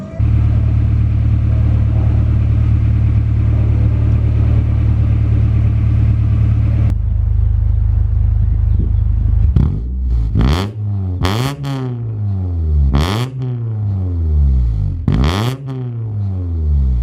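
Honda Prelude fitted with a Skunk2 catback exhaust, first a steady loud idle-to-hold drone, then a series of sharp throttle blips rising and falling in repeated revs, close and alone with no talk.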